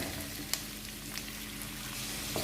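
Onion and garlic sauté in a pan for palak sambar, a soft continuous sizzle with a couple of faint utensil taps, fairly quiet throughout.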